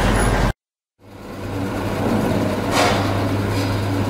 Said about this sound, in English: Mixer truck. Mixer truck.